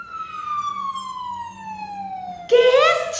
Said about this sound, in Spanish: ¡Ambulancia!